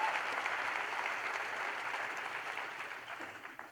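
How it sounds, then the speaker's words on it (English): Warm, steady applause from a crowd, a dense patter of clapping that holds evenly and then begins to thin out toward the end. "So how about another round of applause for everyone?"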